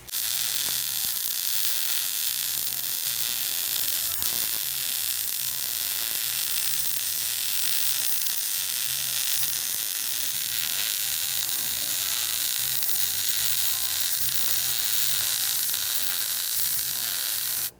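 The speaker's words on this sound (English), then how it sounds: "now what I'm going to do is I'm going to go ahead and weld this in" Steady crackling sizzle of welding a bracket onto a Jeep Comanche front axle, a continuous hissing buzz that runs unbroken and fairly loud for the whole stretch with no talk.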